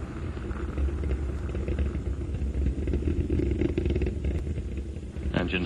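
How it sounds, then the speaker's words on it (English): Space Shuttle Atlantis main engines during the STS-43 launch, throttled back while climbing through the lower atmosphere: a continuous, loud, broadband roaring rumble with crackling texture, steady throughout, with no voices. "Engines throttling down and holding well."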